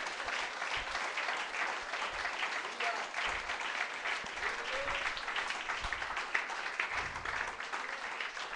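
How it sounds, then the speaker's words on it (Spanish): A church congregation claps steadily in a dense, continuous wash of applause that fills the room, with no voices standing out above it. "Denle un aplauso al Señor"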